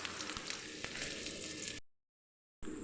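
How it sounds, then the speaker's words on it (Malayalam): Shallots, curry leaves, garlic, ginger and green chilli sizzle steadily as they fry in oil in a pan for green peas curry, up close, before the sound cuts out and briefly returns. "ചെറിയ ഉള്ളി, കറിവേപ്പില, വെളുത്തുള്ളി, ഇഞ്ചി, പച്ചമുളക്, ഇതാണ് നമ്മൾ മൂപ്പിക്കാൻ പോകുന്നത്"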